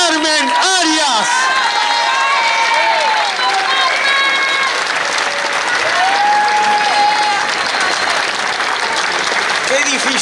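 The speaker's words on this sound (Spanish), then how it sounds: "Fuerte el aplauso para escuchar a nuestra madre Carmen Arias." Sustained applause from a plaza crowd honoring one of the Mothers of the Plaza, with cheering voices and shouts rising above dense clapping for the whole stretch.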